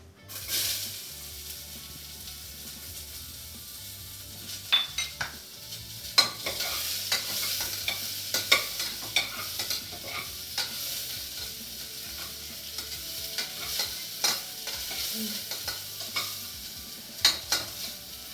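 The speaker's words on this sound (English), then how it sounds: "And now I am going to be adding the methi seeds, cumin seeds, mustard seeds, and the curry leaves." Methi, cumin and mustard seeds with curry leaves and onions sizzle in hot oil for a Rayalaseema-style brinjal and potato curry, a continuous crackling fry punctuated by sharp spoon-and-pan stirring clatters.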